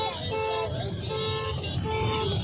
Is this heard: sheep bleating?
no